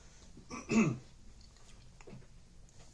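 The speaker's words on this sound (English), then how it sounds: "Excuse me, I'm going to cough" A single short cough or throat-clear bursts out close by, then fades back to a quiet room.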